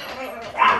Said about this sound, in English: then the dog's gonna bark